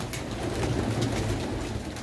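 Pigeons kept by a fancier cooing together in a steady, overlapping chorus, close and continuous for a couple of seconds with no speech.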